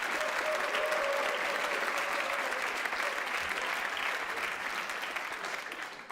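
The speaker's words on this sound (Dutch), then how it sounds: "Geef hem alvast een hard applaus." A hall audience at a Dutch agricultural discussion gives a long, steady round of applause for author Charles C. Mann, dense clapping fading slightly toward the end.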